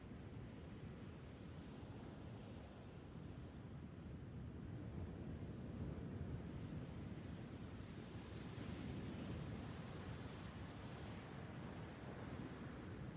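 Churning sea waves roll at a cove in a steady, faint wash of surf with wind noise, continuous and without distinct breaks.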